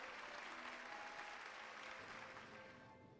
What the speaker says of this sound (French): Écoute, comment la foule vous adore.